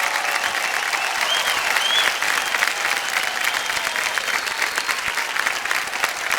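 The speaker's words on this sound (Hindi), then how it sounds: "बहुत जोर से तालियां बज जाए इनके लिए।" A studio audience on the Indian quiz show KBC claps loudly and continuously for a contestant, a thick, even wash of applause lasting several seconds with no talk over it.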